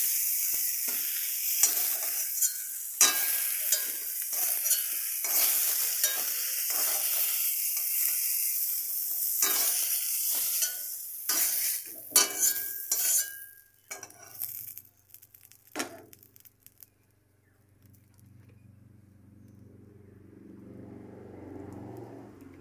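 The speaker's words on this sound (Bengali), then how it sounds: "বেগুনগুলো আমি হালকা করে ভেজে নিয়েছি, এবার তুলে নিচ্ছি" Eggplant pieces sizzle in hot oil in a pan while a utensil stirs and lifts them, with scraping clinks over the frying hiss; the sizzle then fades to near quiet with a faint low hum.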